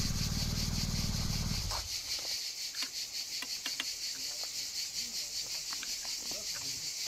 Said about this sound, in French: Vous avez vu les cigales?